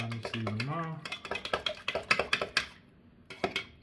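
A spoon stirs a matcha martini in a mixing vessel, making rapid close clinks and scrapes against the glass while someone talks briefly at the start.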